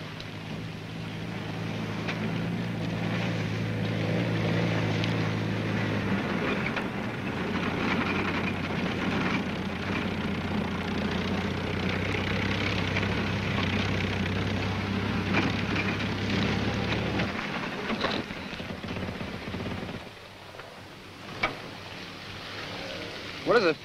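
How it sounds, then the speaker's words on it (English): Sealed Jeep fitted with air intake and exhaust extensions driving into and through water, a continuous low engine rumble with rushing, splashing water that drops away near the end, faint voices briefly heard. "What does it feel like to be driving underwater?"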